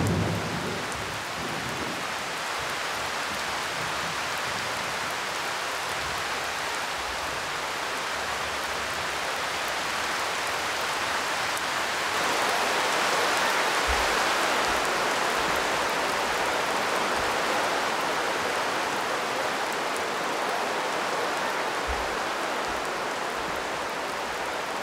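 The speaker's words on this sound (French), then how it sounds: "L'averse nous a retenus tout le jour sous les cases." A heavy rain shower pours down without pause around village huts, a dense, even hiss of falling water that fills the whole stretch, with a few soft low rumbles and no voices.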